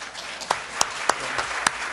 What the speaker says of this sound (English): So Mia, we were giving you a round of applause for your GPA.